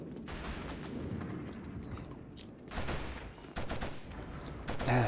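Gunfire in the video game Killzone, a rumbling battlefield of rapid shots and heavy booming bursts, loud and continuous through the short span.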